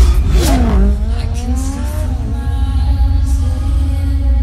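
Racing motorcycle engines revving and shifting pitch in a video game trailer shown at the E3 2018 Xbox conference, loud with rising and falling whines over a deep rumble, played through speakers.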